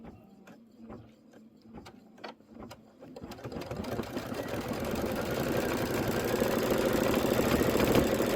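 Embroidery machine stitching out detail on a Kimberbell storybook pocket pillow, starting with a few sparse, separate clicks and then settling into a steady, rapid mechanical chatter that grows louder and continuous.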